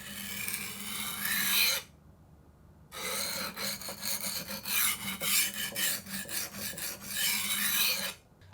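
A butter knife rasps in long, loud strokes across a knife sharpener set to 20 degrees, with a short pause and a run of quicker strokes between the longer passes.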